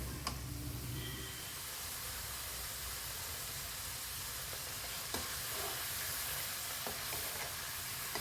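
Cream simmering down into homemade desi ghee gives off a soft, steady sizzle and hiss, while slow stirring scrapes through the pan, with a few faint knocks from the spoon.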